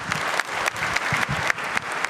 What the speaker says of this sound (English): the applause from the students and everyone else